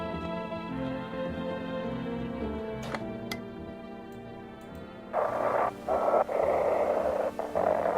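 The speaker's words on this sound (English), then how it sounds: "I hear the radio." A radio broadcast plays in the video game No I'm not Human, with a steady tonal hum and a couple of sharp clicks, then a louder burst of crackling static toward the end.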